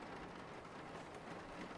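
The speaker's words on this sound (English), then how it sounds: "Oh, great, it's raining." Rain in the Dreams in the Witch House game falls as a soft, even, faint hiss that stays steady with no voices over it.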